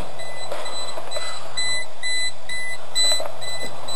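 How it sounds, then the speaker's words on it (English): A 1996 Geo Metro's door warning buzzer repeats a steady electronic tone in short pulses over a faint background hum, sounding close and insistent throughout. "Listen to that buzzer."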